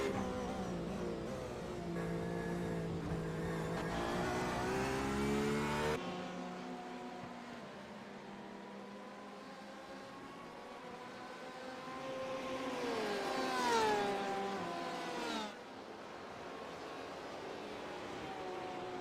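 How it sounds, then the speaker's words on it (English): Porsche race car in a GP Performance Series round, driving through a run of S-curves; the engine note rises and falls steadily across gear changes, loud and continuous with one sharp cut partway through and a brief surge near the end. "JP Alfonso and his Porsche."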